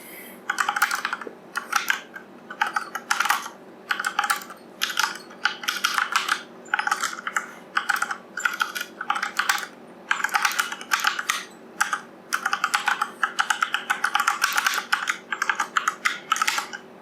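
Steady, fast typing of Java code on a computer keyboard, close and clear, with rapid bursts of keystrokes separated by short pauses throughout, no talking.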